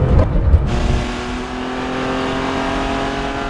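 1973 Porsche 911T with a 2.4-liter CIS fuel-injected engine and 915 five-speed gearbox, heard close as a loud, throaty engine note that settles into a steady, rising-pitched rev.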